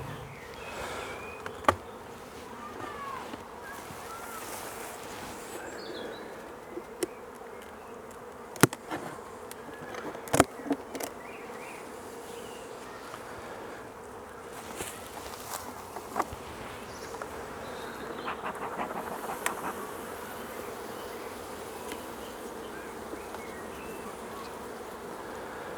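Honey bees buzz steadily in a continuous drone around an opened hive with its main hive bodies exposed, with occasional faint clicks and knocks from handling.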